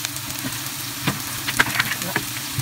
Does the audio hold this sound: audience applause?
no